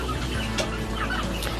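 Several chickens clucking softly and continuously nearby, with occasional sharper calls over a steady low background hum.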